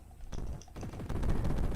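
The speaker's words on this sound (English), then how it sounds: "Ah, another cannon. And another cannon." Cannons fire in the platform game Jazz Jackrabbit, producing a few sharp percussive blasts followed by a dense, rapid rattle of repeated shots, loud and close with no talking.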